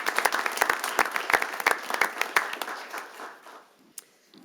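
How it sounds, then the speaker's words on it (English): An audience at a city council meeting's employee awards ceremony gives a round of applause, crisp individual claps at first that thin out and fade, ending with one last clap. "Let's give one more round of applause and congratulations to all of our departmental award recipients this evening."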